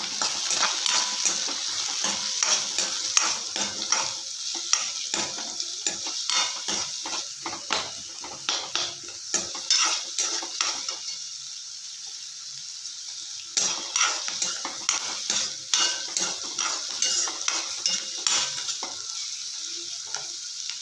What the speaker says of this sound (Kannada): ಇವಾಗ ಕಟ್ ಮಾಡ್ಕೊಂಡಿರೋ ಉಳ್ಳಾಗಡ್ಡಿ ಅಥವಾ ಈರುಳ್ಳಿ ಹಾಕ್ಕೊಳ್ಳೋಣ ಇವಾಗ ಚೆನ್ನಾಗಿ ಮಿಕ್ಸ್ ಮಾಡ್ಕೊಳ್ಳೋಣ